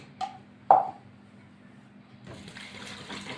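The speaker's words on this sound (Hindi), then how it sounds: "और मैं इसमें पानी डालूँगी" Two quick metallic clinks, then water begins pouring steadily into a pressure cooker for lamb pulao, a continuous splashing fill that keeps going.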